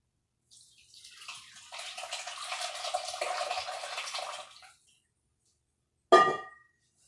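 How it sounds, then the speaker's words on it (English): French dip juice is poured out of a Cosori pressure cooker through a strainer, a steady trickling, splashing pour for about four seconds, then quiet, then one short sharp clink or splash. "I'm going to carefully take our juice and strain it."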